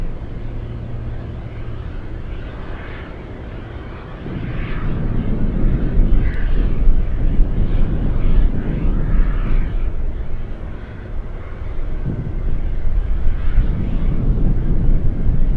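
A light aircraft engine drones steadily at Lake Hood in Anchorage, a broad low rumble that swells after a few seconds and holds, distant to mid-range, with no talk.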